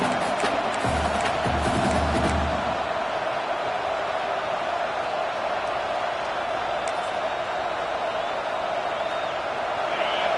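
A steady roar of a stadium crowd in a college football video game, a dense wash of distant voices and cheering that holds constant throughout.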